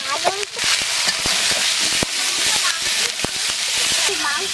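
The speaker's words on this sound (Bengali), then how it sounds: "আমি ডিম এখন ছেড়ে দিচ্ছি।" Quail eggs drop into oil already bubbling with masala, giving a loud, close crackling sizzle with sharp pops throughout, and a voice talks over it.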